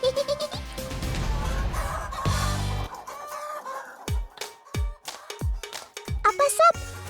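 Sentul chickens, a grey West Javan breed from Ciamis, call in a mix of clucks and crowing over background music, with sharp percussive hits and squeaky effects layered in toward the end.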